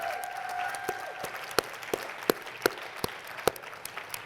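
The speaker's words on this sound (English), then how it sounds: "Can we give our friends another round of applause, please, for bringing it?" Audience applause at a talk event, thinning out into scattered, distinct claps spaced apart at moderate volume, with a faint tone fading early on.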